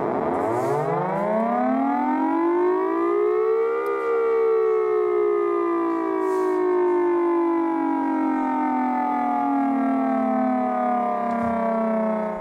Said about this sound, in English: a tsunami warning system they created to send to Niue